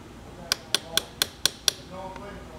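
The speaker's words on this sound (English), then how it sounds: "we're just going to use an ordinary hammer, just a 6-ounce hammer" A small 6-ounce hammer taps a roll pin into an AR rifle gas block on a DPMS Oracle, six sharp, evenly spaced metallic clicks at close range, followed by a quiet pause.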